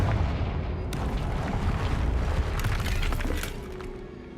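A Confringo spell blast in the game Hogwarts Legacy bursts into a dense, roaring explosion with shattering debris. It sustains loudly for several seconds before easing off toward the end.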